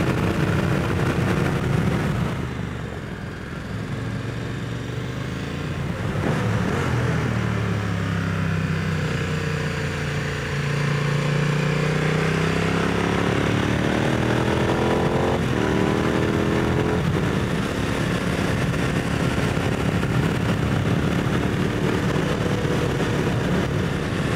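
A large motorcycle rides a mountain road in Norway, its engine droning loud and steady throughout with rising and falling pitch as it shifts and accelerates.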